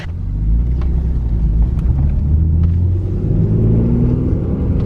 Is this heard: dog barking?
no